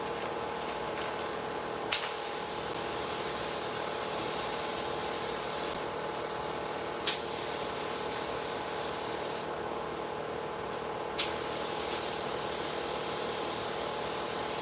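A spray gun lays a medium wet paint coat over gold holographic flake as a continuous soft hiss, broken by three sharp clicks spaced several seconds apart.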